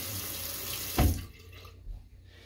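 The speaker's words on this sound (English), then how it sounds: "Gonna splash some water on" Water runs from a sink tap and is splashed onto a face, with a brief louder splash in the middle before the flow quiets to a soft trickle, close by in a bathroom setting.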